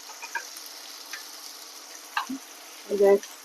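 A soft, continuous sizzle of mushrooms frying in a pan, with a few scrapes and clinks and a brief voice near the end.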